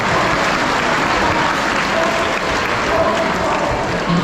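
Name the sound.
audience applause at safari park sea lion show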